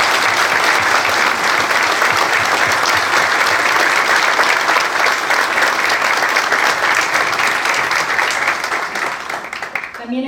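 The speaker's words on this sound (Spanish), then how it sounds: "Un aplauso para él, por favor." Sustained audience applause at a public presentation ceremony, steady dense clapping lasting about ten seconds before tapering off at the end as a voice begins.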